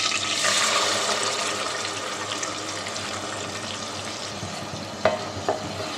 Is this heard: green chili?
yes